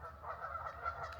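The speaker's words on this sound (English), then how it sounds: "Can you guys hear me over those geese?" Nearby geese give a burst of overlapping nasal honks, fairly faint and continuous, over a low background rumble.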